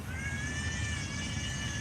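A child yells in a drawn-out, cat-like wail, steady and fairly loud over a low rumbling background, sounding much like a meowing cat.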